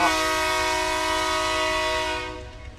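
A loud train horn blares in one sustained, chord-like blast, then fades away as the rumble trails off.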